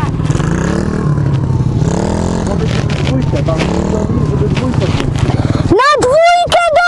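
A learner rider's motorcycle on a first ride, its engine giving a steady low drone as the throttle opens, with voices calling over it and a sharp rising whine near the end.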